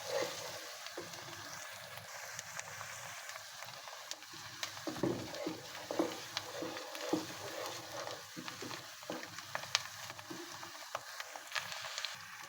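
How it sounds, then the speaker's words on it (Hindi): Whole garam masala fries with golden onions in a pan for keema matar aloo. The sizzle is steady and continuous, with light stirring clatters on top and no voices. "अब हम इसमें अपना साबुत गरम मसाला डालेंगे, और इसको भी साथ ही फ्राई करेंगे।"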